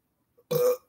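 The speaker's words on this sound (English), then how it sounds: "I just burped." A single short burp from a person on a live stream, close and fairly loud, preceded by a tiny sound and then silence.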